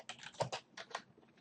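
Quick, light keystrokes clatter on a computer keyboard in an irregular burst, close and soft, with no voices.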